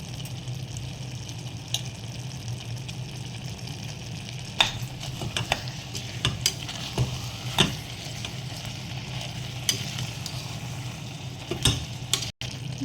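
A spoon stirs a garlic and dried chili paste mixture in a cooking pan for a pav bhaji vegetable mash. It makes continuous close scraping and soft sizzling, with occasional sharper clinks of utensil on metal.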